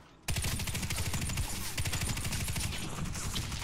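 M249 machine gun fired in the video game Warface, a sudden onset into a rapid, continuous burst of loud automatic shots with a steady rattling rhythm.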